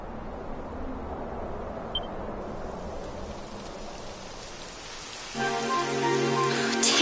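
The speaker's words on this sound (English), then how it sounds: "It would have to go and start raining, wouldn't it?" Rain falling in the video game Dragon Quest 11, a soft, even hiss throughout, with a brighter tonal game sound joining near the end.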